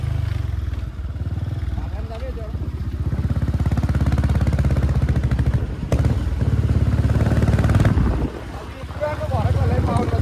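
Motorcycle engine running at a school sports meet, a steady loud mid-pitched drone with a couple of revs and a brief dip near the end, people talking over it throughout.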